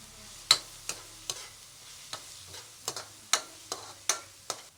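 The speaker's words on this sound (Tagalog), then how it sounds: "hahaluin natin mga kapalangga. Halo ng halo." Rice is stirred in a frying pan with cloves, a spatula striking and scraping the pan in about a dozen sharp, fairly regular clacks over a low, quiet sizzle.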